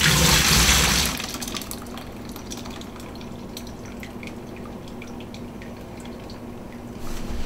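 Homebrew beer wort pours steadily into a fermenter after a loud initial gush, then settles into a continuous splashing trickle with scattered drips, close and alone.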